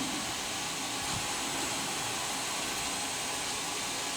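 A metal lathe turning a steam engine piston with a follow rest, running at 800 RPM, gives off a loud, steady broadband whir and hiss with no break.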